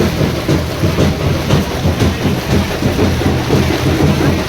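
Heavy rain pours steadily on an outdoor rally in Nanded with a dense, continuous roar and no break throughout.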